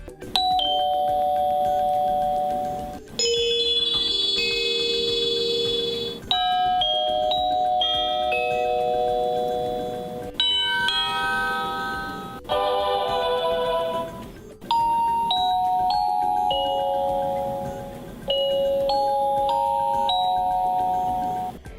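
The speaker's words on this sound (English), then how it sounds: "This wired chime works with up to 3 doorbell push buttons to produce CD quality sound of 6 chime tunes with a fully adjustable volume" Honeywell Decor wired door chime with wood and satin nickel design playing a series of melodic chime tunes, bright ringing tones in repeated phrases with pauses between, loud and clear with no talking.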